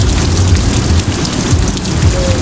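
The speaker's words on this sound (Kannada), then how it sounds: "ಮಳೆ ಬರತೈತಿ, ಅದಕ್ಕೆ" Heavy rain pours steadily at night near a beach in Goa, a dense close wash of drops with low rumbling underneath and no voices.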